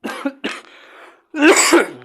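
A person coughs a few times in quick succession, then gives a louder, harsher throat-clearing cough, close and alone without speech.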